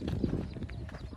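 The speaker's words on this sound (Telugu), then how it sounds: "గుర్రాలు ఉన్నాయి అక్కడ." Horses walking along a route at Kondaveedu hill fort, hooves clip-clopping in a steady uneven rhythm, fairly close, with faint voices in the background.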